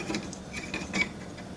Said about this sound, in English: I'm just going to thread this down into the coupler